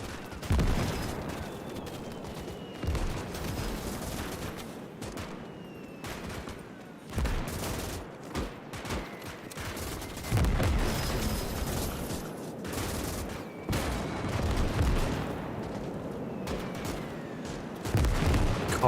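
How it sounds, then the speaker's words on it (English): Mortar shells exploding during a battle in the game Call to Arms – Gates of Hell: Ostfront, with repeated booming blasts and crackling gunfire in irregular bursts, some hits close and loud, others more distant. "them mortars are hitting close to home"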